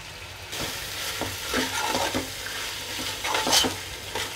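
A prawn biryani mixture with coriander is stirred in a frying pan, giving a steady sizzle and a run of scraping, clinking stirs, close and fairly loud.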